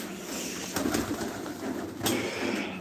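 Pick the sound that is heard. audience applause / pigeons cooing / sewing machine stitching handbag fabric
pigeons cooing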